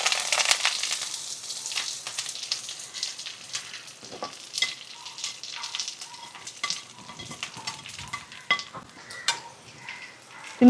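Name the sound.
leaves being stir-fried in hot coconut oil with mustard seeds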